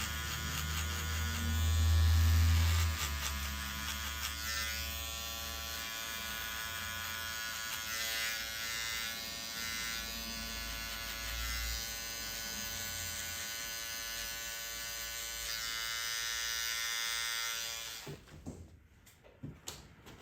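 Electric hair clippers buzzing steadily and close while cutting a mid fade, a continuous hum for most of the stretch before cutting off near the end.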